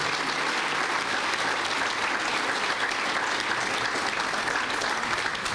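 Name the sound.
applause for county board members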